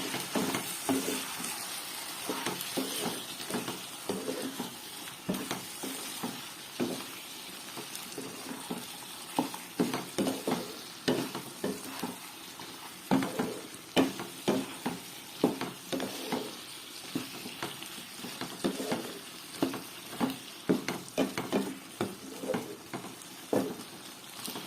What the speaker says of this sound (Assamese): এতিয়া কম ফ্লেমত মই সিজিবলৈ দিম মাংসটো